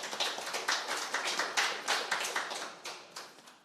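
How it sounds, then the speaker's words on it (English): Audience at a festival launch and panel discussion applauding, with a steady run of hand claps from a modest group that fades toward the end. "So just give yourself a round of applause for that."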